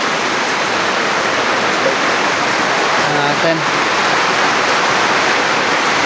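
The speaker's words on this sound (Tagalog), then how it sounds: "sobrang lakas ng ulan, oh" Heavy rain pours down in a continuous, loud roaring hiss that fills the whole stretch, with a voice briefly speaking partway through.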